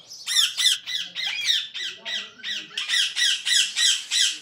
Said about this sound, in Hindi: ये तोते बढ़ा रहा हूँ।